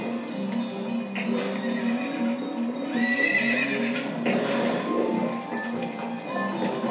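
A horse in the video game Zelda Twilight Princess whinnies in repeated high, shaky neighs over rhythmic clip-clop hooves and game background sound, close and fairly loud.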